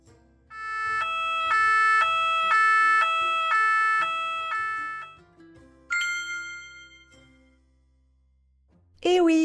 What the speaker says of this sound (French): Eh oui, une sirène de pompier.